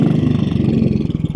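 A 1957 Royal Enfield Bullet 500 motorcycle in excellent condition thumps along while being ridden, its engine pulsing in a rapid, even beat, close and loud, with no talk.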